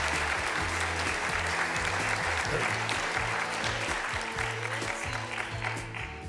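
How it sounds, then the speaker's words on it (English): Audience applause at a live event, steady clapping from a seated crowd for about six seconds, moderately distant, with a low rhythmic musical thump underneath. "How about a nice round of applause for Sally and Mark?"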